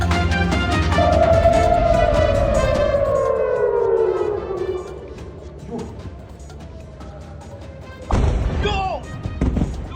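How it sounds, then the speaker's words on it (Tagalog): An air raid siren wails loudly over Tel Aviv, its pitch sliding down, followed by a sharp crashing missile impact and rumbling noise. "Alingaw-ngaw ng sirena na sinundan ng pagsabog ang bumulabog sa mga taga Tel Aviv sa Israel kagabi"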